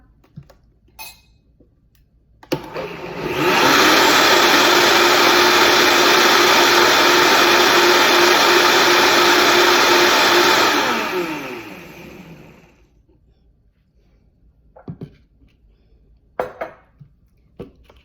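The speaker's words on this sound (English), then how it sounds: "And you just give it a whiz in your blender" A blender starts up, whirs loudly and steadily for several seconds, then winds down, with a few clinks of dishes before and after.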